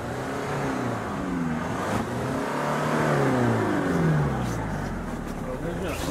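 A Mitsubishi Pajero idles and rattles roughly in heavy snow, a steady engine drone that swells and dips slightly, with talk over it throughout.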